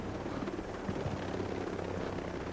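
A helicopter in Ghost Recon Breakpoint drones steadily with a thick, continuous rotor and engine rumble, loud and close throughout with no talk over it.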